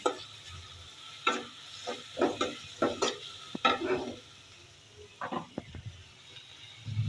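Garlic paste goes into a hot pan and sizzles while a spoon scrapes and stirs in short, uneven bursts, close and moderately loud, over a low steady frying hiss.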